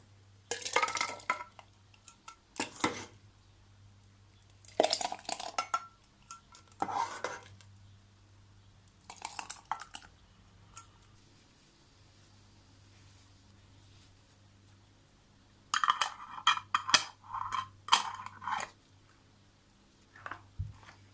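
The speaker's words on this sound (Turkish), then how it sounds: "Kaynar bir vaziyette hemen kavanozlarımı alıp ters çevireceğim." Glass jars of freshly boiled homemade strawberry jam are picked up and flipped upside down, giving bursts of glassy clinks and lid knocks separated by quiet pauses, close up against a low background hum.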